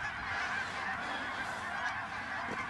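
A large flock of geese honking at a hunting spread with decoys, a dense, steady wash of overlapping distant calls with no clear single voice.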